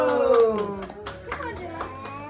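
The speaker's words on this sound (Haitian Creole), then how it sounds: "Clap, clap, clap, clap, clap, clap," Hands clap in a quick scattered burst at a family birthday celebration, several close claps fading as voices talk and sing over them.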